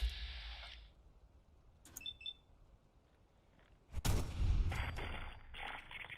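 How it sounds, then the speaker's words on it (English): A few sharp gunfire bursts ring out in Fallout 4, one small burst early, then a louder volley near the end, with quiet stretches between. "I'm hearing gunshots from up there."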